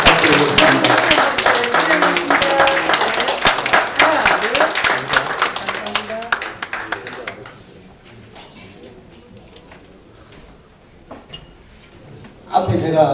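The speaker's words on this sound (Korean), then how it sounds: "박수 부탁드리겠습니다." Audience applause at a Busan regional council gathering, dense and loud for about seven seconds, then fading to scattered claps and quiet murmuring before a voice returns near the end.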